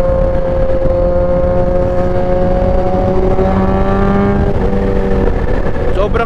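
A 2021 Kawasaki ZH2 motorcycle engine hums steadily while riding, with a sustained tonal drone whose pitch climbs slightly near the end.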